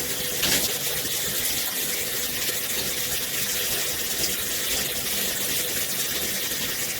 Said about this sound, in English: rinse it really, really well